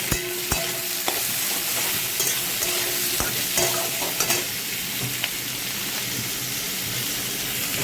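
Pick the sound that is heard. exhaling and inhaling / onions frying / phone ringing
onions frying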